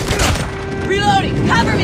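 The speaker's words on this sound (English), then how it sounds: "Friendly airstrike incoming." Scattered gunfire and blasts in the video game Call of Duty Mobile during an airstrike, a dense rumble of shots and booms beneath a voice calling out.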